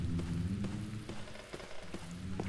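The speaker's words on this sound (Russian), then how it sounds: "Из-за дыры в окне в комнату проникает ветер и дождь" Steady rain with gusting wind pours through a hole in a broken window into a room with rotting wooden beams, a continuous soft wash with faint scattered drips, no voices.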